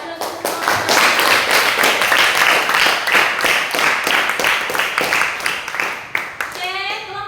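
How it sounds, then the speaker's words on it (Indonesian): Classroom applause for a student group, many hands clapping in a dense, steady patter that lasts several seconds before tapering off, with a voice briefly audible near the end. "Beri aplaus untuk kelompok 2."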